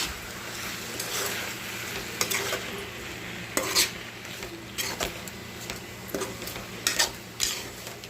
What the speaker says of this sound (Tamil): வாங்க முட்டை உடச்சி ஊற்றிக்கலாம். நல்லா கிளறி விட்டுக்கலாம்.